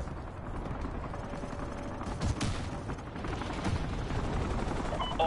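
Call of Duty MW2 battle gunfire near the Washington Monument: fairly quiet distant bursts of automatic fire and scattered shots under a rumbling ambience, with a sharper burst partway through and mechanical clatter, no talking.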